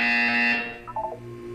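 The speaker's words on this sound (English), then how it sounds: "You will hear a buzzer." A loud electronic buzzer from the video game Portal 2 sounds once, a steady tone that fades out and gives way to a short fluttering electronic blip, with no voices.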